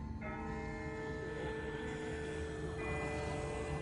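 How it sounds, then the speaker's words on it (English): A distant bell in The Walking Dead video game rings with a steady, sustained metallic tone that hums continuously from start to finish. "That's not the same bell as before. This one's further off."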